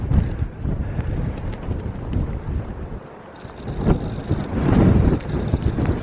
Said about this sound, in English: Oh my goodness, it's windy.